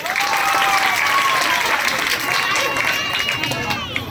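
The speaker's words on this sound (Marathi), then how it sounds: "संजय कादर याच्यासाठी एकदा टाळ्या व्हायला पाहिजे" A crowd at a birthday celebration for a Shiv Sena assembly constituency leader breaks into loud, continuous applause, dense massed clapping filling the space evenly throughout, with faint chatter mixed underneath.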